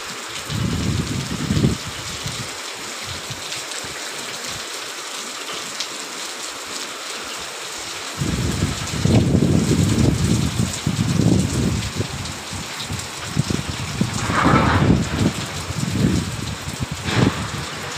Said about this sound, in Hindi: देखिए कितना बारिश तेज है